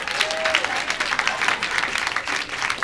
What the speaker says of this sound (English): Big round of applause for Jason.